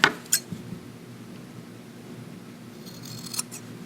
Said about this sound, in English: I am cutting off my serging, so don't be afraid to do that. I'm just trimming this.